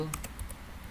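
Quick keystrokes on a computer keyboard as a command is typed into a network configuration, four or five light clicks in a short burst close to the mic.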